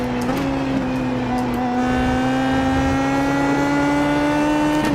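A race car engine in the Pm18 at Watkins Glen, in a racing game, holds a loud, steady, buzzing drone under throttle, its pitch slowly climbing without a break.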